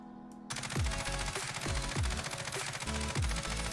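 Automatic gunfire from an AMAX or Ram 7 assault rifle in the video game Warzone: a dense, sustained, loud burst of rapid shots starts half a second in and runs without pause, with deep booming thumps repeating under it.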